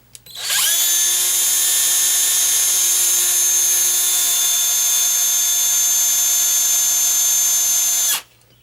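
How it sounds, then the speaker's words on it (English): A power drill spins up with a high whine and runs steadily at full speed for several seconds, then stops abruptly while drilling a pilot hole in a Peerless 700 Series transmission. "And then we're going to drill a pilot hole."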